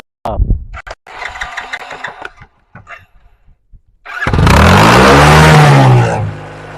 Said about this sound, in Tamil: இப்போ வாங்க பைக் ஸ்டார்ட் பண்ணி பலூன் எப்படி வெடி